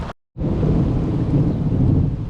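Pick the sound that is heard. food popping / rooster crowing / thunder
thunder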